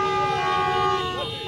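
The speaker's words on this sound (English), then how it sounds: "crowds took to the streets, cheering and honking car horns in support of the takeover" A sustained car horn blares with steady tones, joined by other honking, as a crowd cheers in the streets after a military coup announcement in Burkina Faso, with traffic rumbling underneath.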